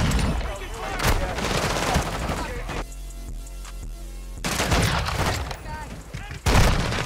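Sharp video game gunfire from Modern Warfare 2 cracks out in fast, loud bursts, pauses briefly in the middle, then resumes with a heavy hit near the end, while a voice talks over it.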